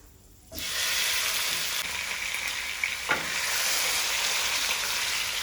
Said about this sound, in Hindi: और चिकन को वाइट होने तक फ्राई करेंगे